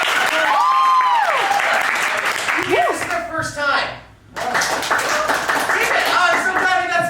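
A theatre audience at a live Dungeons & Dragons show claps in sustained, dense applause, with a speaker talking and laughing over it before it briefly dips and swells again.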